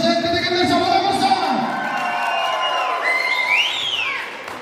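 Audience at a Shymkent stage show cheering and whistling loudly, with rising whistle glides and a dense crowd roar throughout, voices mixed in.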